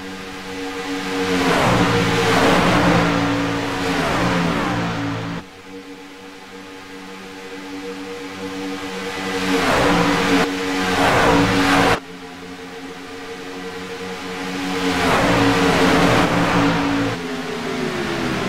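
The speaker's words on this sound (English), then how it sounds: "we got 4 trucks separating themselves up front here" Racing trucks in a USRC Truck Series race roar past with loud revving engines, the pitch sweeping up and down as packs of trucks pass close by in three surging waves.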